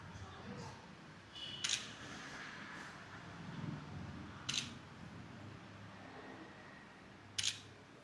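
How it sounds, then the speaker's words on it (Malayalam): A camera shutter clicks three times, evenly spaced, while photographing a broasted chicken combo meal at a restaurant, over a low steady room hum. "ഒരു ഫോട്ടോ എടുക്കട്ടെ."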